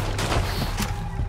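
Gunfire in Red Dead Redemption 2, a dense burst of repeated shots layered into a loud, continuous fusillade.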